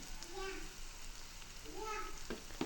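Turmeric and chili powder fry in a pan with a steady, soft sizzle, while a voice speaks over the cooking throughout.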